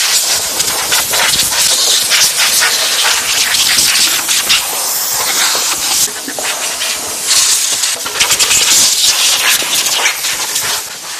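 Close, loud hiss of a steam jet washing out a car's engine compartment, a continuous rushing spray that wavers in intensity and never pauses.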